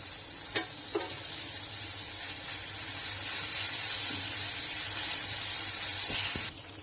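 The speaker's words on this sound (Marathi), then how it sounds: "भाजण्यासाठी त्यावर थोडे तेल ओतायचे" Oil sizzles steadily over green chillies and garlic roasting in a pan, a continuous close broadband hiss with a couple of brief clicks of stirring, then a sudden drop in intensity near the end.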